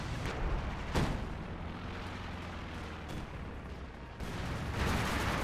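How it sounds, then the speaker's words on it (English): Artillery fire in the video game Company of Heroes 2: a dense, continuous rumble of shelling with a few sharper blasts breaking through, steady and moderately loud throughout. "The artillery was coming down on it for a sec."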